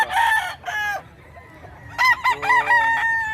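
Fighting roosters at a market in Bocaue, Bulacan crow loudly and close by, with two overlapping bursts of crowing and clucking against quiet background chatter.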